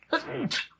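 A single person's sneeze, short and close, with a sharp voiced burst followed by a hissing release, heard alone in a quiet room.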